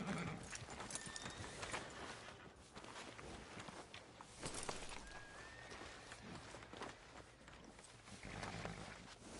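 Horse hooves clip-clopping in the Western video game Red Dead Redemption 2, a steady walking rhythm of hoofbeats heard alone, fairly close, with faint outdoor ambience.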